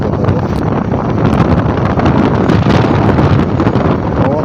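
Strong wind buffets the microphone with a loud, continuous roar and rumble, unbroken for the whole stretch.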